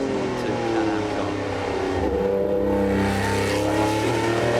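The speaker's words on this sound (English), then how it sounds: "Mighty Ferrari 712 Can-Am car." Ferrari 712 Can-Am race car accelerating up the narrow hillclimb course at the Goodwood Festival of Speed, a loud, close, continuous engine roar with rising and shifting pitch as it pulls hard.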